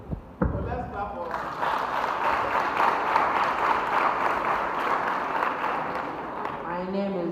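Audience at a school science and maths quiz semi-final claps for a contestant, a sustained burst of many hands that starts abruptly after a brief voice and fades as speech resumes at the end.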